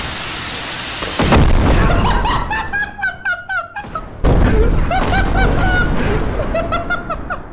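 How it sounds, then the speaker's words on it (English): Booming explosions from a barrage of bombs in the modded video game Content Warning, two long roaring bursts with rumbling tails, overlaid by squeaky honking noises and laughing voices. "That's a lot of bombs."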